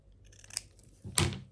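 Scissors cut a fabric roof shape for a small summer-themed quilt, giving two short, close snips with a quiet pause between them.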